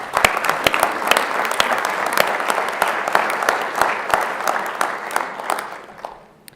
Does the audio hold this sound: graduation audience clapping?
yes